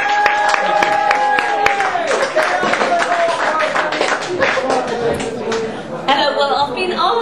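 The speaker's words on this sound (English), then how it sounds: "Give her a big round of applause" An audience at a Hastings anti-war meeting claps in a scattered burst for a speaker being introduced, with crisp overlapping hand claps and voices and chatter running underneath throughout.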